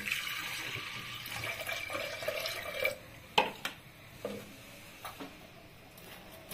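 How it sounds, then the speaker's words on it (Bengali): Water pours into a pressure cooker holding soaked dal, a splashing, gurgling stream for the first few seconds, then a few close clinks and knocks of the pot or utensil. "এখন আমি পরিমাণ মতন জল দিব"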